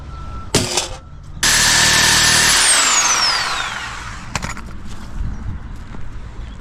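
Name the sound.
Sawzall reciprocating saw cutting with a blade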